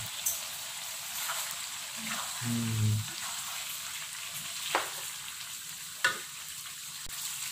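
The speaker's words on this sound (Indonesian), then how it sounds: "ini sudah lumayan agak lama kita tumis ya" Chopped chicken liver and gizzard stir-fry in a hot pan with rica spice paste, giving a steady low sizzle with a few scraping stir strokes and brief clatters.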